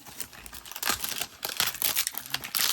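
Old cellophane wrapper on a sports card box crinkles and tears up close in loud, irregular bursts with no voices.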